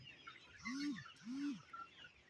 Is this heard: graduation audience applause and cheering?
no